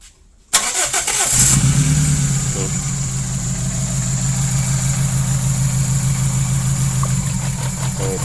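A motorcycle engine with a rough, misfiring cylinder, its second and third cylinders not firing, starts up loudly and settles into a steady, uneven idle close to the microphone.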